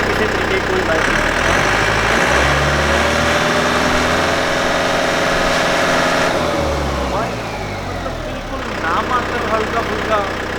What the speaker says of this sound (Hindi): ट्रैक्टर को स्टार्ट करते हैं तो आप देखेंगे ट्रैक्टर को स्टार्ट करते ही आप जितनी भी रेस करोगे